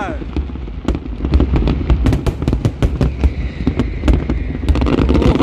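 Rapid New Year 2022 fireworks bursts at Al Marjan Island crackle and boom one after another in a steady barrage, loud and close, with excited voices talking over them.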